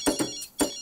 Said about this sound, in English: Oh, it's the phone. It's your phone.